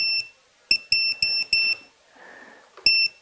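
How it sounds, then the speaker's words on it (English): A Mobula7 drone's low-battery warning sounds as a series of sharp, piercing electronic beeps in short bursts, five quick pulses then a pause and another, close and alone. "The thing constantly beeps."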